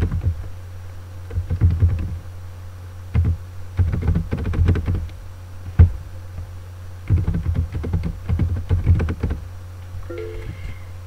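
Rapid bursts of keystrokes on a computer keyboard as a login is typed, clustered in several quick runs with short pauses between them, close and fairly loud over a steady low hum, with no talking.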